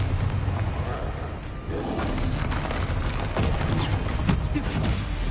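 The Confringo blasting curse in Hogwarts Legacy: rumbling, booming blasts and crackling bursts fill the whole clip, dense and loud, with thuds layered over a constant roar of spell combat.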